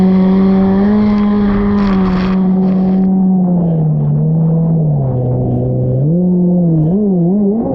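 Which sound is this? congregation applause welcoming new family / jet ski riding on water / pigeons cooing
jet ski riding on water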